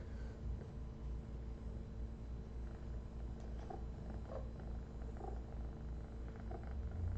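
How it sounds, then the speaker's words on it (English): A cat purrs loudly and steadily up close, a continuous low rumbling that holds for several seconds with no talking. "You're purring so loudly."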